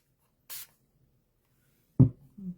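Two short bursts of a spray bottle misting water onto a watercolor lighthouse painting, close and brief, separated by quiet, followed by a soft thump and rustle.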